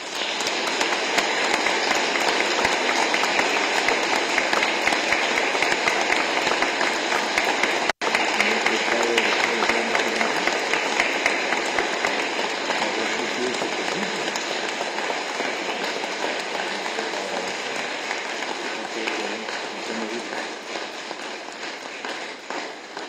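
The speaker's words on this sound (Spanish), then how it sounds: "vamos a darle un aplauso muy fuerte" Sustained applause fills a church during a funeral mass for a priest, a dense steady clatter of many hands that carries on for over twenty seconds, briefly broken by a sharp click, then slowly thinning.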